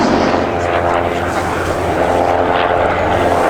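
Vintage propeller-driven attack biplane from an aviation collection display flying overhead, a loud, steady engine drone with a sustained rumble throughout, with faint voices underneath.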